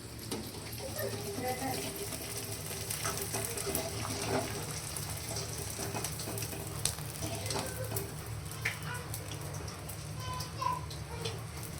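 Edible gum (dink) frying in hot oil in a pan, a steady crackling sizzle that runs throughout with faint clinks of a stirring spoon, close and moderately loud.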